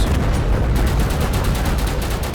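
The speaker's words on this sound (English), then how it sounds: "This 30mm gun is actually pretty good at taking out vehicles." A vehicle-mounted 30mm cannon in Total Conflict: Resistance fires a rapid, continuous string of loud, heavy booming shots, close and dense, with no pause between rounds.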